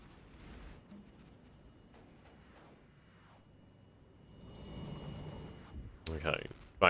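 Artillery from the Armored Brigade wargame rumbles in with low distant booms, building to a sharper blast at the end while someone talks over it.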